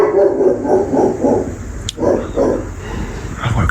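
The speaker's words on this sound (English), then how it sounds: "I've woken the dog up." A dog barking repeatedly at night up in the hills, a run of close, fairly loud barks in short bursts, a pause, then another run of barks.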